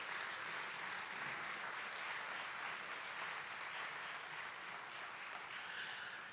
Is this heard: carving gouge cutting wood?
no